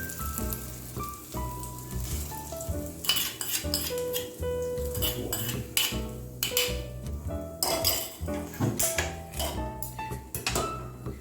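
Metal utensils clink and scrape against a pot as a mixture is added to ghee pongal, with repeated close, bright clatter and tapping throughout, no voices.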